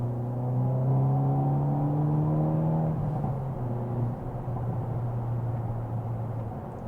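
A 2022 Hyundai Elantra N on the road or track, its engine note rising steadily under acceleration, then dropping into a steady whirring cruise with road rumble beneath.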